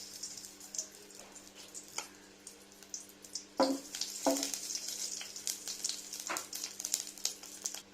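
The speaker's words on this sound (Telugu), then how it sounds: "స్టవ్ పై తాలింపు కోసం పాన్ పెట్టుకుని దాంట్లో కొద్దిగా నెయ్యి వేసుకుందాం" Soft, steady sizzle of ghee warming in a pan for tempering, with a couple of sharper clinks partway through and no talking.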